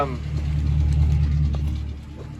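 A 2007 Roadtrek Popular 210 motorhome engine idles with a low, steady rumble throughout, with voices talking over it.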